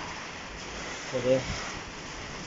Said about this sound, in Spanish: muy fuerte la lluvia.